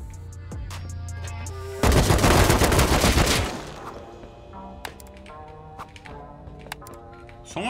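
Loud sustained burst of automatic gunfire in the survival game Rust, lasting under two seconds, followed by scattered single shots and sharp cracks at lower volume.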